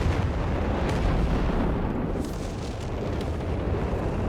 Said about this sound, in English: Artillery fired in, there you go, GG, game over.